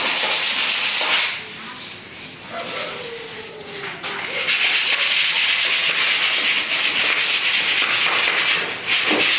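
Rapid, harsh scratching of sandpaper rubbing back and forth on a wall, loud and close, with a short quieter pause partway through.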